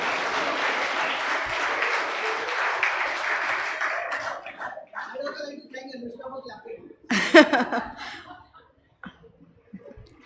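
Audience applause at a conference session, loud and steady at first, then thinning into scattered claps, murmurs and a few chuckles, with a brief louder burst near the end.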